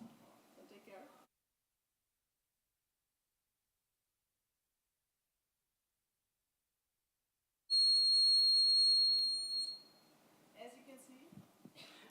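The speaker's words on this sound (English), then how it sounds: "wireless charging, and also a loud alarm buzzer" An IoT personal safety device sounds its loud alarm buzzer, a piercing high steady tone lasting about two seconds after a silent pause, with speech before and after it.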